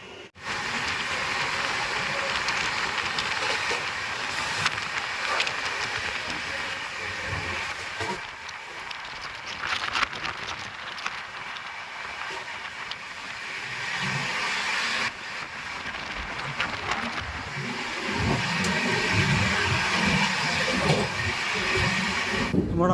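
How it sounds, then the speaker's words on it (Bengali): A train moves slowly through Assam after Kokrajhar, heard from on board as a steady, fairly loud rumble and rattle of the carriages that swells and eases over time. "বর্তমানে ট্রেনের স্পিড খুবই অল্প।"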